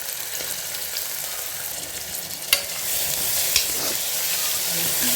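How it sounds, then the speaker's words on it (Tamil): Steady broadband sizzling of onions frying in a pan, continuous and fairly loud, with a couple of sharp clinks partway through. "இப்போ பாருங்கள் வெங்காயம் நல்லா வதங்கட்டும்"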